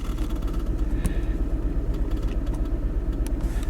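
A Mini Cooper S engine with random cylinder misfires, including cylinder 4 and cylinder 1, runs during a test drive. Its loud, close, steady rumble carries a rapid pulsing throb throughout, with no talking.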